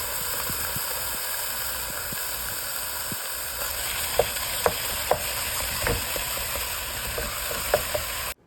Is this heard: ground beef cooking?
yes